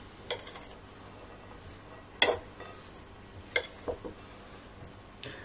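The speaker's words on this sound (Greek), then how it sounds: "Ανακατεύουμε" Wheat is stirred in a pot with a utensil, giving a few sparse, faint scrapes and clinks against the metal over a quiet background.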